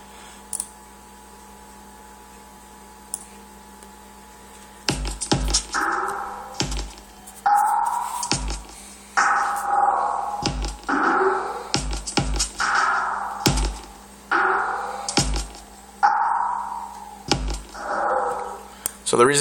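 Spacey, alien-sounding synth beat for a dubstep track, entering after about five seconds of near silence as a loud repeating pattern of sweeping tones punctuated by sharp drum hits.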